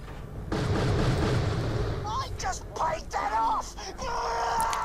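Gunfire at a turret in Borderlands: The Pre-Sequel, a sustained burst of heavy shooting followed by choppier shots and game sound effects, loud and close.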